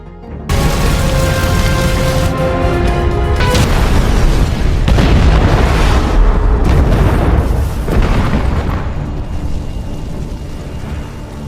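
Explosion in an action film: a loud, sustained roaring blast that hits suddenly and rumbles on for several seconds, with further bursts and heavy booms layered through it, then slowly tapers off.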